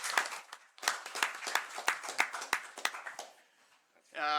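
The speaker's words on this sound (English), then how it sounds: "I think there's a round of applause." At a town council meeting, a small room of people claps in a brief round, individual hand claps close and distinct, fading out before a voice starts speaking.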